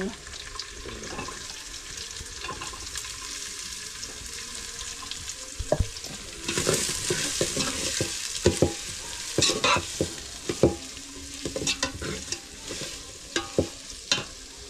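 Chopped onion hits hot oil over garlic for spicy village-style chicken vade, giving a steady close sizzle with spoon scrapes and stirring knocks that grow busier partway through.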